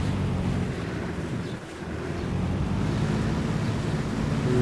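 A water scooter engine runs at sea, a low continuous drone mixed with wash and wind buffeting the microphone, steady and fairly close without any talking.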